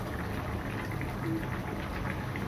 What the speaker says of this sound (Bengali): এই তো হয়ে আসছে, আলু সিদ্ধ হয়ে আসছে।